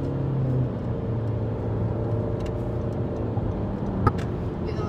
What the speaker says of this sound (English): Why are you driving so fast?